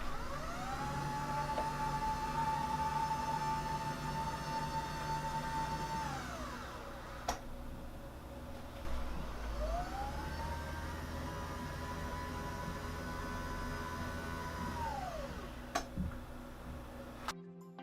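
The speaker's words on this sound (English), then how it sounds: "The dual motor is very quiet at 45 decibels and it races smoothly." Autonomous SmartDesk 2 Premium standing desk with a dual motor raising, a steady mid-pitched motor whine that rises and falls in two long runs, each ending with a soft click, constant and moderately quiet throughout.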